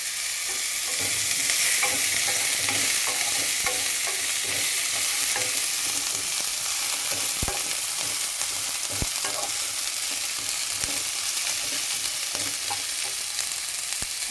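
Food fries in a pan with a steady, close sizzling hiss and occasional sharp pops, moderately loud throughout with no one speaking.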